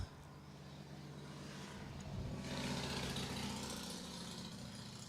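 Faint, steady engine rumble from road traffic beside a cricket ground in Estonia, swelling briefly as a vehicle passes, then settling back to a distant drone.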